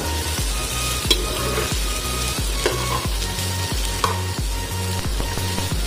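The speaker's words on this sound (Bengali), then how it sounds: "এবার আমরা অ্যাড করবো পেঁয়াজ কুচি।" Chopped onion frying in oil with cloves, cardamom, cinnamon and cumin for a thin chicken stew, a steady close sizzle broken by regular scraping stirs and a few light clinks of the pan.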